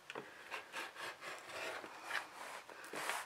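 Fabric edges being trimmed for a fat quarter toiletry bag, a quiet close series of rhythmic scraping cuts, about a dozen short strokes in quick succession.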